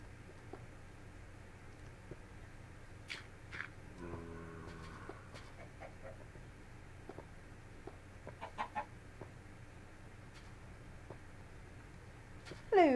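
A Minecraft chicken gives a few short, soft clucks against quiet game ambience, with a brief louder blip near the end.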